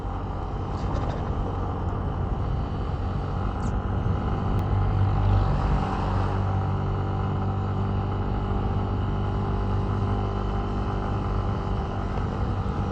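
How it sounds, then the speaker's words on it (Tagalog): A Yamaha Mio Gravis scooter engine runs steadily, a low continuous rumble with a slightly strained, laboring hum throughout, close and fairly loud with no talk. "Kahit medyo nahihirapan yung makina niya, smooth pa rin pakinggan."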